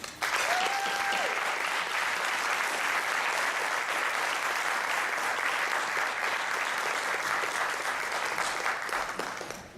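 Sustained audience applause welcoming Fred C. Adams to the stage at a business talk, a dense, steady wash of clapping from a large crowd holding loud for about ten seconds before tapering at the end.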